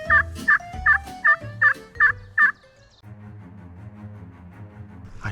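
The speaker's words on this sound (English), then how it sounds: "I just heard a turkey gobble up here." A wild turkey gobbles during a spring hunt in the woods, a rapid series of about seven loud, sharp gobble notes up front, followed by quieter, lower rumbling sounds.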